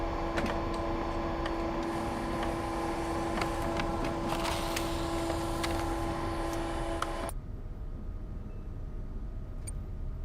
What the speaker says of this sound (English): Bro, this printer makes so much sound.